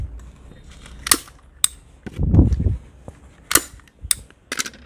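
A staple gun fires several times while fastening an orchid to a piece of wood: sharp, close snapping clacks in irregular succession, with some rustling and handling between shots.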